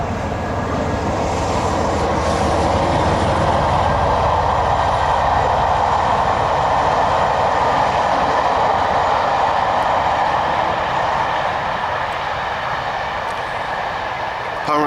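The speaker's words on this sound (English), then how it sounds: "Apparently there's a train line near here somewhere." Train rolling along a nearby railway line beside a lake, a steady continuous rumble and hiss holding for the whole stretch, moderately loud and constant, with no talk.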